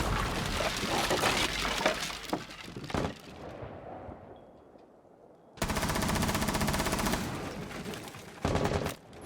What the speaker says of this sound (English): I get he's breaking a barricade there